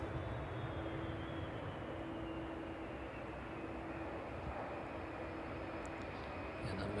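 A DHL Boeing 757 coming in from Reykjavik to land at East Midlands Airport in the evening, heard as a steady, distant jet roar that holds broad and even throughout, with a faint voice under it.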